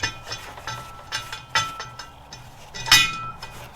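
Metal parts clinking and tapping while the legs of an Oris Skottle cooker are fitted: sparse, close light clinks and knocks at irregular intervals, with one sharper metallic ring near the end.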